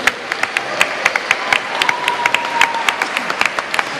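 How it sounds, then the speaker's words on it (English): Audience applause for a choir at a Last Night of the Proms concert in a church: a steady round of clapping, fairly close and full, with sharp individual claps standing out through the four seconds. "Massive round of applause for Citrus Singers."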